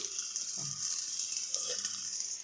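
Rice with onion and water boiling hard in a pot, a steady bubbling and hissing rush, faint and continuous, with small pops rising through it.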